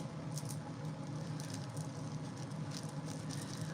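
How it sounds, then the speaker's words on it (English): Rain falls steadily in a backyard as a soft, continuous patter with no voices, faint and even throughout the short stretch. "Y'all can see how much rain is happening right now."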